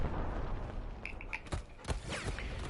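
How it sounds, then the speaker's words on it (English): Fireworks in the video game Neo: The World Ends with You go off as a series of booming blasts and crackling bursts over a busy game soundscape, several separate pops in quick succession. "They're shooting off fireworks!"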